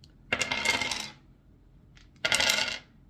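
Two bursts of dice shuffled and rolled, small hard objects rattling and clattering together, each lasting about a second, with a quiet pause between them; close and fairly crisp.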